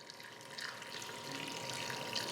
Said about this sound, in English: we're just going to pour